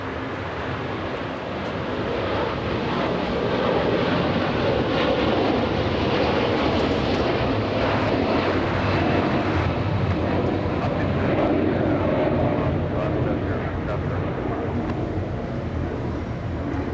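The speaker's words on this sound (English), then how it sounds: "we have Scandinavian racing down the runway. In fact, it's lifting off right now." Scandinavian Airlines heavy airliner taking off from a LAX runway, bound for Copenhagen; a loud, steady jet engine roar holds throughout.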